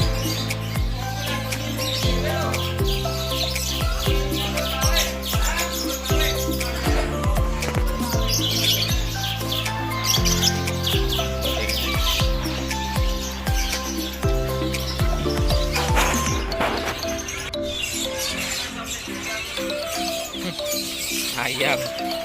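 Small birds chirp and tweet busily throughout a bird market in Tonatan, Ponorogo, with a constant layered chatter of calls mixed with crowd sounds and voices in the background.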